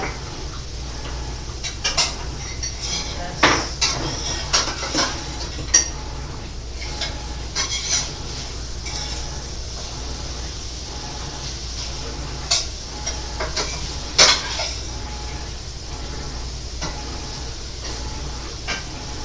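A roux of melted butter and flour is stirred in a pan, giving a steady soft sizzle broken by repeated scraping strokes and occasional louder clanks of the utensil against the pan.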